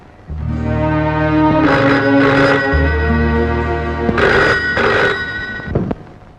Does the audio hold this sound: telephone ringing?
yes